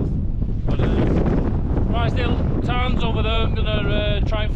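Strong mountain wind buffets the microphone on an exposed Helvellyn ridge walk in the Lake District, a continuous loud roar filling the whole clip with a faint tonal whine in the background.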